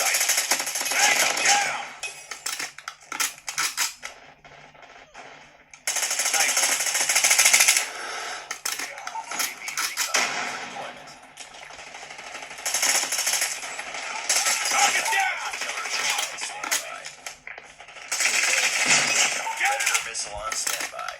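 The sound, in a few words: Call of Duty Mobile gameplay gunfire, video game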